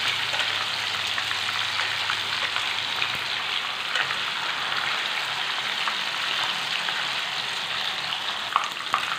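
Chicken pieces frying in a pan with oil, giving a steady, dense sizzle and crackle that continues evenly throughout with no pauses.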